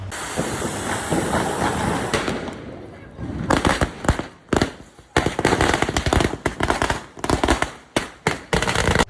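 Diwali firecrackers burst in a rapid, irregular string of sharp, loud cracks and bangs that keep going for several seconds, with a rushing hiss underneath.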